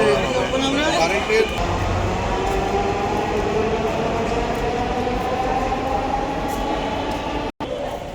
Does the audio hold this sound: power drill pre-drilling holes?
no